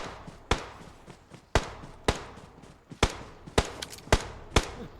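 Gunfire in the battle-royale game BGMI crackles as sharp isolated shots, roughly eight spaced reports coming at an uneven rhythm from one direction, fairly distant against a quiet background.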